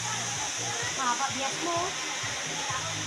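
Mountain water rushes down at a resort in the countryside, a steady, close, broadband roar of flowing water with someone talking over it.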